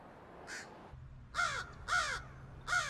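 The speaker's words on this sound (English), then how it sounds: "Scientists have identified over 250 distinct crow calls." Crows cawing: one fainter harsh caw followed by three loud, closely spaced caws in a steady rhythm, clear and nearby with no talking.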